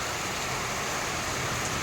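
Rain falls steadily through a monsoon afternoon, making a continuous, even hiss with no breaks and no voices.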